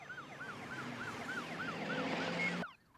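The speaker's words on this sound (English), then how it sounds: "Let's go and watch the ambulance come in." An ambulance siren wails in a steady rapid up-and-down cycle, fairly close and prominent, then cuts off abruptly near the end.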